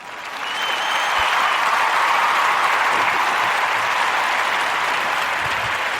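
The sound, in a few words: round of applause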